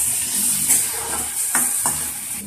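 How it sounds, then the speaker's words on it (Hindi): Onion and tomato fry in a pan with a constant loud, close sizzle, while a spoon stirs them in a few distinct scraping sweeps. "देखो ऑनियन ब्राउन कलर हो गया। उसके बाद और टमाटर डालना है, दो मिनट पकाने दो।"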